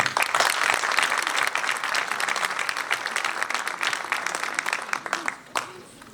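Audience applause greets a Parti socialiste speaker at a political meeting in Lille: dense, steady clapping from a crowd that thins out and fades near the end.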